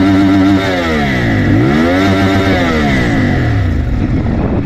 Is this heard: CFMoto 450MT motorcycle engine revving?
yes